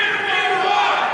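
A large political rally crowd roars and cheers in a sustained, dense wash of voices, loud and continuous with no single speaker standing out.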